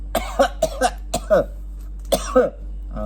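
A person coughs several times in short, sharp bursts, close by, with brief pauses between them over a low steady hum.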